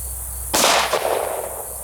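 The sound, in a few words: FN 5.7x28mm gunshot, 40 grain Hornady VMAX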